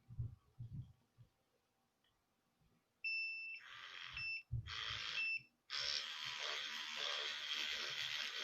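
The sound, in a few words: device beeping until 20 seconds have passed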